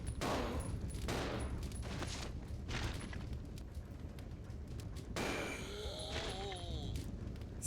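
Gunfire rattles through a Resident Evil 0 game scene, with clustered bursts of shots early on and a louder burst of fire and mechanical clatter later, loud and near.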